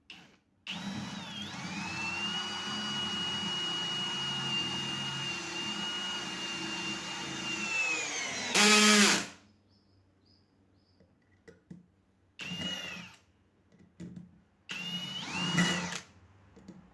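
New DCA ADJZ03-13 hammer drill driving an 8 cm hex-head screw, a steady close motor whine for about eight seconds, then a short loud burst before cutting off, followed by a few brief spins.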